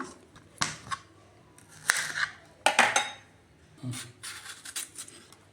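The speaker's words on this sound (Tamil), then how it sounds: "முதல்ல வாழைக்காயை வந்து தோல் சீவி நம்ம நறுக்கிடலாம்" A knife peels and chops raw plantain in several short scraping, cutting bursts, with brief pauses between strokes and a faint clink of utensils.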